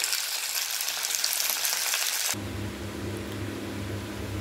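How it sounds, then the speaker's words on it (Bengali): Potato and cauliflower frying in a pan, a steady close hiss and sizzle throughout, the tone shifting partway to a lower, hum-backed crackle. "আগে আলু ফুলকপিটা ভেজে ফুলকপি ভাজা বসিয়ে দিয়েছি, এটা হতে থাকুক"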